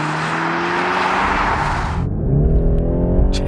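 A BMW 430i G32 Gran Coupe with a 255-horsepower engine pulls hard under acceleration, its engine note steady and loud, then dropping into deeper, rising rumbling harmonics as the car gains speed; no voices.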